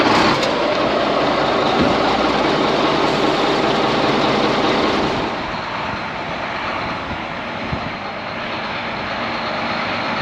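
A straight-piped vehicle engine runs loud and raspy close by, then drops to a quieter, steady idle partway through, with a few small knocks and no talking.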